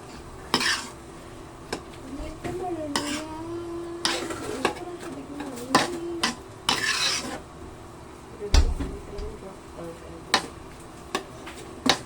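Macaroni mixture with oyster sauce stirred in a metal pan, with repeated scraping and clinking of a utensil against the pan and a soft sizzle underneath, while a person talks.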